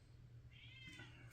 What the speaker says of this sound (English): if you hear that noise, that's my cat screaming to come in here